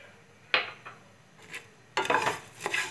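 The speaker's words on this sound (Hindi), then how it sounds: "सबसे पहले आप अपना साबुत धनिया डाल लीजिए, थोड़ा सा इसे आप चलाएंगे।" Whole coriander seeds scraped and stirred in a dry pan while roasting, giving a few scattered scratchy rustles and clinks, with a louder burst of stirring near the end; no talking.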